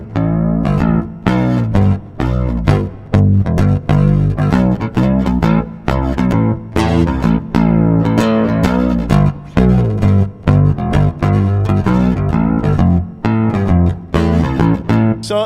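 Bass guitar runs through a chain of modulation, clone chorus and reverb effects and plays a steady, loud line of repeated notes for about fifteen seconds, with no voices over it.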